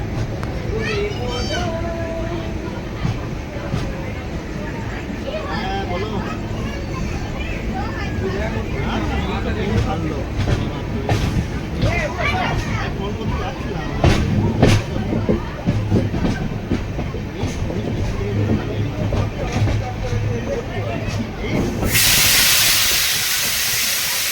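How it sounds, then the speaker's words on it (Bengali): A train rumbles and hisses as it pulls away from Puri station, with rhythmic clatter and a busy, noisy background; voices talk over it. "ট্রেনটা ছেড়ে দিয়েছে।"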